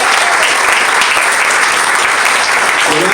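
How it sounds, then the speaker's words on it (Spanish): Church congregation applauding, a dense, steady wash of many hands clapping at full volume for the whole stretch, with faint voices buried underneath. "Vamos a dar un aplauso al Señor."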